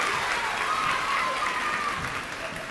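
Audience applause for graduating students at a 2022 high school graduation ceremony, a steady wash of clapping from a large crowd that holds even and fades slightly at the end, with a faint voice over it.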